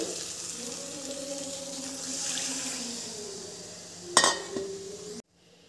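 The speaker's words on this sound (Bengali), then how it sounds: "মশলা খুব সুন্দর কষানো হয়ে গেছে, সাইড থেকে খুব সুন্দর তেল ছেড়ে দিয়েছে। এবার দিয়ে দেবো জল।" Water is poured into a pan of sizzling fried spice masala for a Bengali paneer curry, a steady hiss and bubbling that swells, followed by a clink of a utensil and a sudden cutoff.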